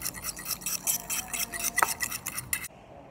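Spoon stirring a teaspoon of yeast into a homemade bread mixture in a bowl, a steady close run of scraping, rubbing strokes for most of the clip before it goes quiet.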